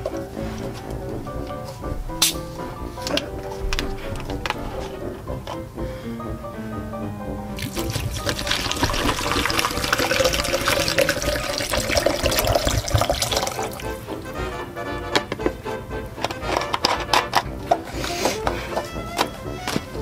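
Water pours steadily into a cup of instant ramen, a continuous splashing, trickling stream that swells louder midway and runs alone without any talking.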